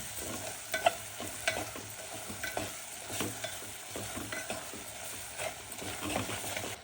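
A spoon stirs mutton masala into a village-style Maharashtrian mutton bhaji in a pan. It makes repeated scraping clicks at an uneven rhythm over a low, steady sizzle, close and moderately quiet, with no talking.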